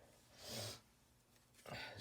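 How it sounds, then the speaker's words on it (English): Someone with sinus trouble sniffles, two short nasal sniffs spaced apart, close and fairly quiet. "excuse my sniffles, y'all."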